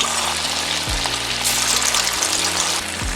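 Potatoes deep-fry one at a time in hot oil, a dense, loud, continuous sizzle with bubbling hiss filling the whole stretch, and no talk.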